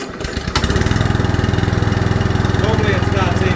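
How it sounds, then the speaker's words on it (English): A Gardenline Gladiator self-propelled petrol lawn mower with a Briggs & Stratton 650 series 190cc Easy Start engine, in need of a service, pulls over with a brief rattle, then settles into a loud, steady, close chugging idle. "This is self-propelled 650 series Briggs & Stratton 190cc Easy Start engine on it."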